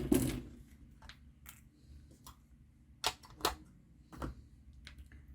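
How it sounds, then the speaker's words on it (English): A die cutting machine pressing through stamped paper pieces, heard as intermittent mechanical clunks and clicks with quiet gaps between, close and moderately loud. "let's die cut these out"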